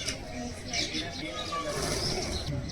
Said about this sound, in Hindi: छोटी छोटी अलग तरह की चिड़िया आती है